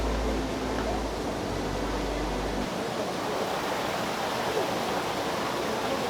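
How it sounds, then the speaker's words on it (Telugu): The waterfall at Japali in Tirumala pours in a constant broadband rush, loud and unbroken from start to finish. "ఇక్కడైతే ఒక మంచి వాటర్ ఫాల్ పోతుంది."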